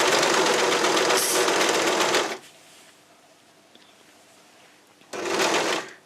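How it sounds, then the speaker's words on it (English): A serger overlock machine stitching the fabric of a cloth pad with a manta ray pattern runs loud and steady for about two seconds, falls to quiet handling, then starts again in a second burst near the end. "Put your fabric under and start serging."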